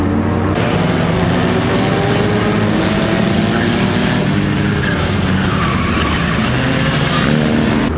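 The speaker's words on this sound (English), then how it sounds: "A lot of times I think people forget how to skid plate race." Cars skid plate racing at a night destruction event, steel plates scraping and screeching loudly and continuously over a dense rumble of engines and tires throughout.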